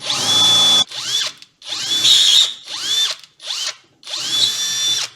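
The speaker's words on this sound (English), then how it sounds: "drill you a little big hole" A power drill bites into a car hood in five or six short, loud whining bursts with brief pauses between, the high motor tone rising and falling close by.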